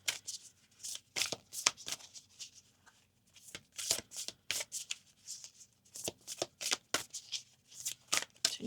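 A Quan Yin oracle card deck being shuffled in repeated quick riffling bursts, close and fairly quiet, with brief pauses between runs and no talking.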